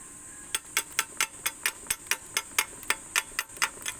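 Sharp, regular metallic taps of a hammer on a 2mm stainless steel weld, about fifteen quick strikes in a steady rhythm, close and clear against a quiet background.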